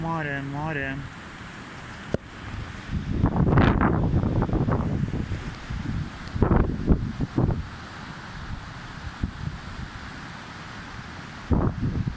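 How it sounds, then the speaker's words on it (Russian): Large sea waves break on the shore in Tallinn, Estonia on a stormy, hurricane-force morning, a constant roar under heavy wind buffeting the microphone, with a person speaking at times over it. "Вон какие волны."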